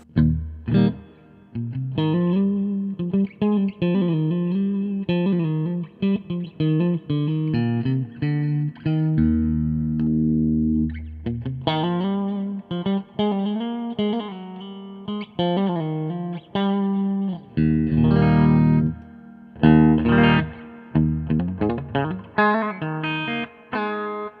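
A distorted electric guitar plays a melodic run through a Hiwatt Crunch 150R amp head with bass and middle boosted, notes ringing with a washy reverb tail between phrases.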